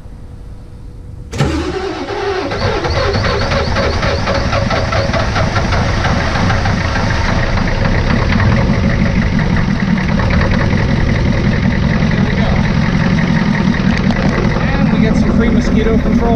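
A Ford F-350 with a 7.3 IDI diesel engine fires up on its first startup after a short quiet lead-in, then settles into a loud, steady, clattering idle that runs continuously and close by.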